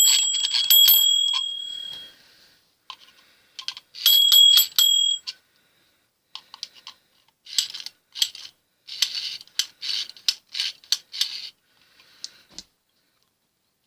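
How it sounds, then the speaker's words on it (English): Small bell on an electronic timer gadget rings in quick bright dings, followed by a scatter of light metallic ticks and taps, close and fairly quiet with no talk. "it rings the bell"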